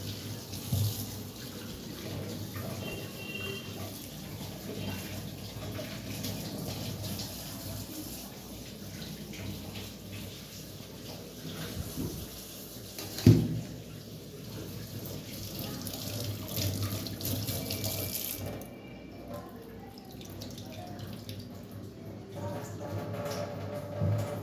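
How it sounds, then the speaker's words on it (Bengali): Small potatoes are washed clean of dust and sand under a running kitchen tap, a steady close rush of water with faint handling clatter and one brief knock partway through. "আলুগুলো সব ধুয়ে রাখছে, কারণ ভীষণ ধুলো আর বালি বালি ভর্তি থাকে, ওই জন্য আলুগুলো ধুয়ে পরিষ্কার করে রাখছে।"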